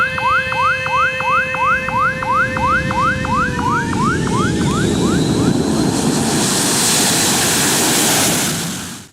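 A jet airliner roaring past on the runway at an open, unfenced Indonesian airport, loud and close, with a rhythmic warbling whine that fades into a broad, steady rush of engine noise.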